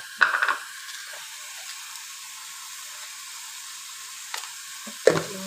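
Leaves with chilli powder sizzle in hot oil: a steady, faint frying hiss runs throughout, with brief louder crackles and stirring scrapes at the start and near the end.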